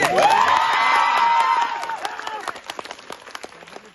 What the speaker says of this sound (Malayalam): ഒരു ഉഷാറിലടിക്കുന്ന കൈയടിക്ക്.